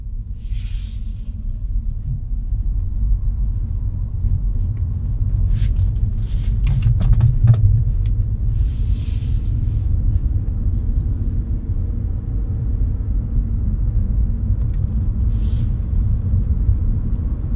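A Toyota Auris hybrid rolls along in electric mode, a steady low road rumble and tyre drone heard from inside the cabin with no engine note, plus a few faint clicks and rattles.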